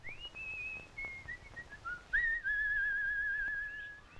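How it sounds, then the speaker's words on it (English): A person whistles a short tune of bright sliding notes, a few quick phrases and then a long wavering held tone, clear and close. "The whistle is a nice touch."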